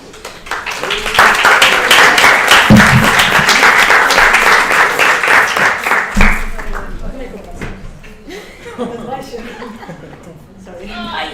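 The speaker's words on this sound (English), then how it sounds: "And applause." A conference audience breaks into loud, sustained applause that swells for several seconds and then tapers off into scattered claps and murmuring voices.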